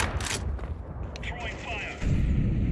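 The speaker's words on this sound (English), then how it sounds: "Throwing a grenade." A grenade in the Counter-Strike video game bursts loudly near the start, followed by rumbling gunfire and further blasts throughout.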